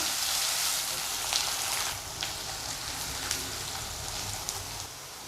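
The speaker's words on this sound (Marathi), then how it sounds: "यामध्ये कांदा आणि कढीपत्ता घालून घेऊया हे बघा आणि व्यवस्थित कांदा नरम होईपर्यंत भाजू द्यायचा" Onion and curry leaves frying in a pan, a steady close sizzle and crackle like rain on a surface, with a few brief scrapes.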